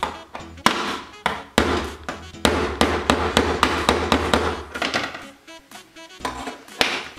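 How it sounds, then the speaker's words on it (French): A hammer strikes a tool repeatedly to punch holes in a mini album, a fast series of loud, close, sharp blows with short gaps and a few slower hits toward the end. "Donc là ça risque de faire un peu de bruit parce que faut y aller au marteau."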